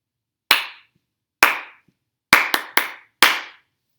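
Hands clapping a rhythm taken from a song: six sharp, close claps in an uneven pattern, two spaced singles followed by a quicker cluster, each ringing briefly in a quiet room.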